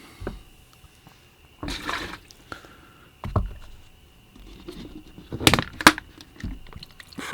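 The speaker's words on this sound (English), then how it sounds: "I'll empty my water again." Brush-rinse water for oil painting is dumped and refilled: several splashy bursts of pouring and gushing water, separated by quieter gaps, fairly close and moderately loud.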